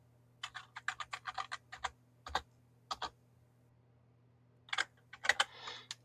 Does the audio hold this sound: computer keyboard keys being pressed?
yes